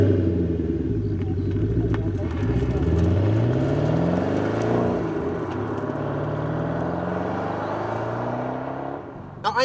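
A Maserati 3200GT sports car drives off and accelerates, engine pitch climbing through repeated sweeps as it shifts and revs, a loud, continuous rumble that eases near the end.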